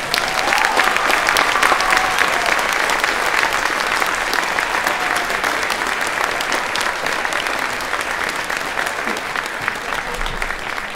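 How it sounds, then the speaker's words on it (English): Concert audience at a school parade-of-bands event giving a big round of applause, dense sustained clapping from a large crowd filling the hall, loud and steady throughout with faint murmurs beneath. "How about one more big round of applause for all these wonderful bands?"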